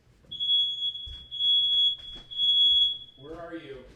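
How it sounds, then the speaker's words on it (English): A smoke alarm set off by vape clouds gives three long, piercing high beeps in steady succession, loud and close indoors, followed by someone talking. "I set off the smoke alarm with my vapes."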